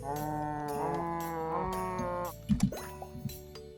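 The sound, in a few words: cows mooing in the Terracards video game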